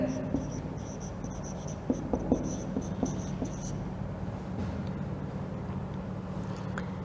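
A teacher writes on a board during a school lesson, with soft, scratchy strokes and a few sharp taps in short bursts close by, over a steady background hum and faint insect-like chirps.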